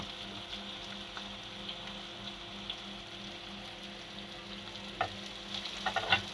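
Chopped onion fries in oil toward browning for a soybean chunk curry, a soft steady sizzle heard fairly quietly, with a few light clicks and scrapes of stirring near the end.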